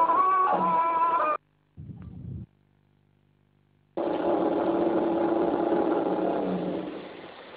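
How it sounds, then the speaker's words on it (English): A motorboat engine from 1968 footage gives a steady droning hum that cuts off abruptly, then returns after a short gap and runs on evenly at moderate loudness. "The motorboat gets them there quickly and easily."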